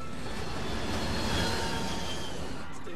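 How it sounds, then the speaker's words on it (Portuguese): Jet engines of an Air Florida airliner spooling up to increased power during a failed climb just after takeoff, a loud, steady broadband roar filling the whole clip without pause and with no speech. "Os pilotos aumentam a potência dos motores, mas é tarde demais."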